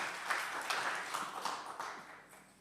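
Audience applause greets a speaker introduced at a talk about the Brussels Beer Project, with dense, fairly faint clapping that fades gradually over a few seconds.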